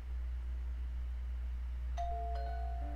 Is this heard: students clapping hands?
no